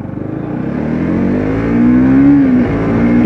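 A Bajaj Pulsar NS200 ABS motorcycle engine runs while riding, a loud close drone that rises in pitch as the bike accelerates, briefly dips as if shifting gear, then climbs again, with no one speaking.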